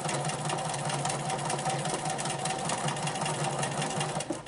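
A sit-down sewing machine stitches steadily during free motion quilting with its hopping foot on fabric, a loud, fast, even mechanical whirr that runs unbroken for several seconds, with no talk.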